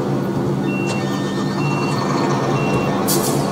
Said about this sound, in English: So let's turn on the engine.